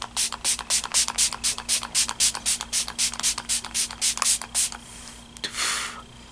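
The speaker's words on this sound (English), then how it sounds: "don't forget to set your makeup with the spray" MAC makeup setting spray: a steady series of short, hissing spray bursts repeats rapidly, followed by one longer, softer spritz at the end.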